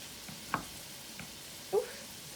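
Cold ham in a pot for red beans and rice, faintly sizzling and crackling at low level with a few soft pops, the frying sound subdued and slowing rather than vigorous.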